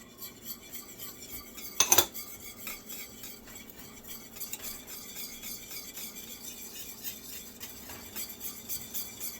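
A spoon stirring vanilla into a warm banana pudding mixture in a pot, with a sharp metal clank near the start and then soft, repeated scraping and clinking against the pot, no voices.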